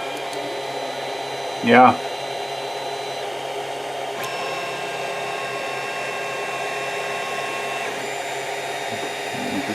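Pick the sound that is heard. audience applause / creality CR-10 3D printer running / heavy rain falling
creality CR-10 3D printer running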